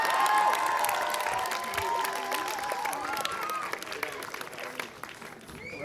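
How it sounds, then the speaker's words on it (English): A graduation crowd claps and cheers with whoops and shouts, a dense steady roar of applause that tapers slightly toward the end. "You go ahead and clap and cheer for your"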